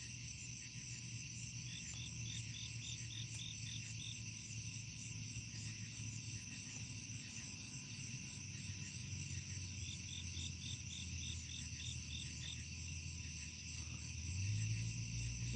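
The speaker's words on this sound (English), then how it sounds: "Listen to them crickets right there." Crickets chirp at night by the water in steady repeating pulses, faint and continuous over a low background rumble that swells briefly near the end; no one speaks.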